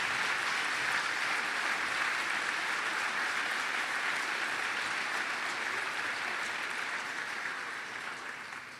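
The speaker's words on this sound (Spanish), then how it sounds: "Den un aplauso fuerte a Jesús." A church congregation gives loud, sustained applause, a dense even wash of clapping from many hands that carries on for several seconds before slowly easing off.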